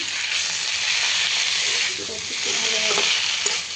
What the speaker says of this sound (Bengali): বেশি ভাজবো না। শাকগুলো দিয়ে দিলাম।